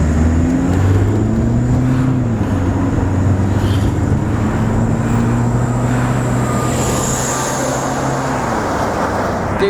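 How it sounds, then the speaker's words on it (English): A car engine idles steadily with low harmonic hum, then rises in pitch as it accelerates on the road, loud and close with continuous road noise throughout. "It idles smoothly. It goes when you hit the gas."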